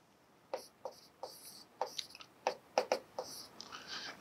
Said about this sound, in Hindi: क्वेश्चन फोर को फिर से लिखता हूँ